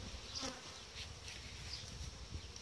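Honeybees buzz around a strong hive during feeding, a faint, steady droning hum with occasional individual bees passing closer.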